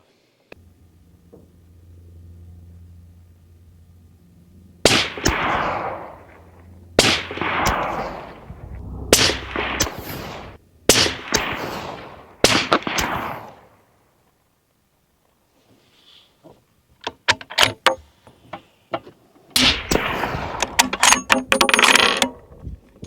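A rifle fired after its barrel was cleaned of copper fouling: five loud, sharp shots spaced about two seconds apart, then quieter clicks and handling noises followed by another stretch of loud, rapid cracks.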